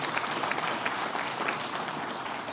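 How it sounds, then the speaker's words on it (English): Conference audience applause after a talk at a React developer event, a dense, even wash of many hands clapping from a large room that holds steady throughout. "Can we get a round of applause for sure?"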